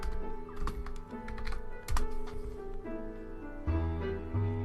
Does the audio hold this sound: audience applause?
no